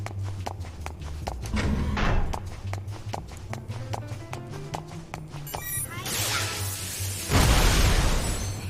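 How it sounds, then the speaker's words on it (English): Explosions from the video game Xenosaga Episode III go off in a busy burst of sharp pops and booms over rapid rhythmic thuds, swelling into a loud, roaring blast toward the end, with no voices. "Big explosions. Even bigger explosions."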